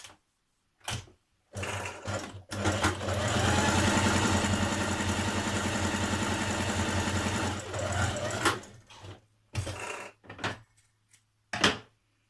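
A sewing machine stitches a skirt seam in one long, steady whirring run lasting several seconds, framed by short bursts of stitching before and after.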